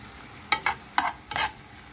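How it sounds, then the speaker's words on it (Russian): Chopped garlic going into a frying pan with onion and oil, heard as four short separate bursts of sizzling and stirring over a quiet background. "Нарезанный чеснок отправляем к луку на сковородку."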